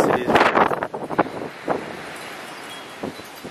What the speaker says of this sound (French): le vent souffle dans l'autre sens